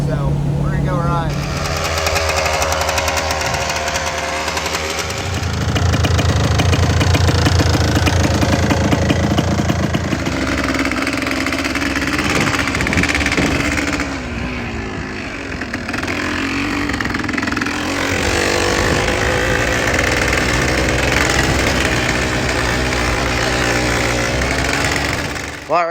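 A dirt bike engine runs steadily, loud and close with a rough, buzzing drone throughout, while people talk over it.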